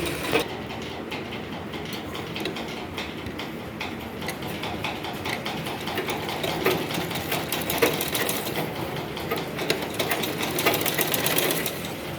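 A sewing machine runs steadily while stitching a dhoti salwar, its fast mechanical chatter continuous and fairly close throughout, with a faint ticking rhythm and no talk over it.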